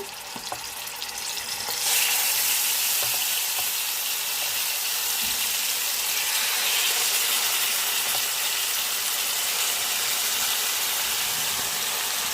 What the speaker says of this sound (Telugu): ఎంత బాగా ఎర్రగా వేగిపోవాలండి ఈ చికెన్